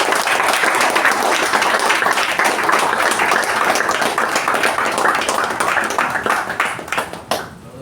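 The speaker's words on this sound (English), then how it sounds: "With a huge round of applause, let us welcome him to address the gathering." Dense, steady applause from an audience at a club installation ceremony meeting, welcoming a speaker to the podium; loud, continuous clapping for about seven seconds before it quickly dies away.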